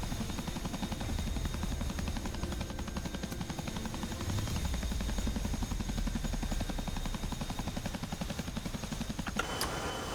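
Rotor thump of a Chinook helicopter in an Afghanistan war video game, a steady dense chopping drone held throughout, close and loud, with a sharp click near the end.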